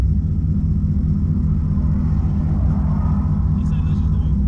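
A Chevrolet Camaro SS with headers, running on E85 with a stick shift, rumbles steadily at a low, loud drone while cruising, with people talking over the engine.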